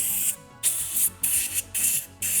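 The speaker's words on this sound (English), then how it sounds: "for the places hard to reach with the towel, we use compressor" Compressed air from a compressor hisses in five short, loud bursts with brief pauses between them while drying cleaned parts of a 12-gauge double-barrel shotgun.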